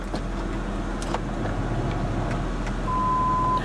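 A hail-damaged Porsche Cayman idles steadily up close, a low engine rumble with a faint electronic warning tone toward the end and no talk.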